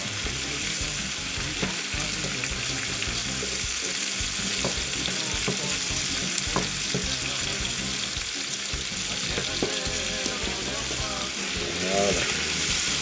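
Chicken with chayote and calabash sautéing in a pan, a steady close sizzle with scattered clinks and scrapes of stirring, no talking.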